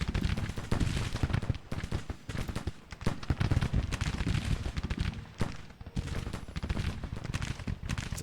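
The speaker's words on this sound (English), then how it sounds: "The artillery is still firing." Artillery and massed musket fire in a Civil War strategy game, a dense continuous crackle of volleys and booms with no talk over it.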